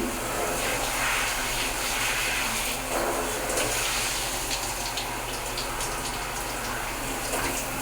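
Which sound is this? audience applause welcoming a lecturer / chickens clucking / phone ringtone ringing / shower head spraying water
shower head spraying water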